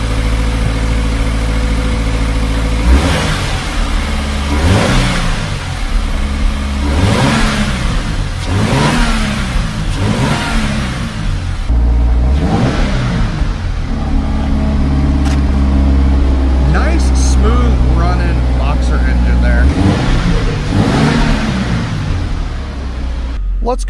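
A 2013 Subaru BRZ with 71,514 miles, its engine revved repeatedly from idle in a rhythmic series of rising and falling surges, loud and close, with a person speaking partway through.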